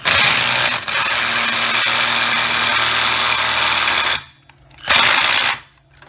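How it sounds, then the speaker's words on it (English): Milwaukee drill tightening a 32mm wheel hub nut on a Ford Escape, a loud continuous whirring burst that cuts out, then a second short burst after a brief pause. "Okay, the tightening of the 32mm nut."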